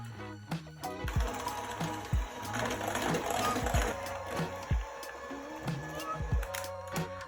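Electric hand mixer whirs through brownie batter with coffee powder, a fairly quiet steady buzz broken by repeated knocks and clatters of beaters against the bowl.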